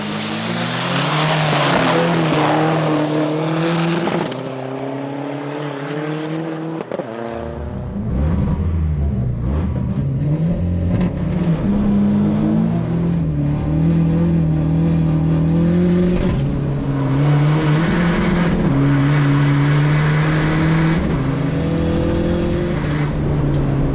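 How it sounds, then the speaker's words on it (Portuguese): Two 400HP SEAT Ibiza 6L PD and Volkswagen Polo PD cars with nitro in an ASD Legends drag race roar loudly and continuously, engines revving up through rising gear changes with occasional tire squeal. "Vamos começar as corridas e vamos lá então começar com as Drag Race."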